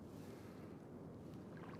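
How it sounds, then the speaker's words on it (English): Ocean waves far out from a driftwood beach, a faint, continuous low wash of surf blended with wind rumble and no distinct breakers. "Are those waves all the way out there?"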